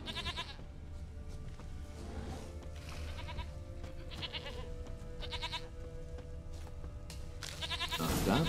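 A goat in The Witcher 3 bleats repeatedly, with several quavering calls spaced a second or two apart over a constant ambient game bed and a louder call near the end.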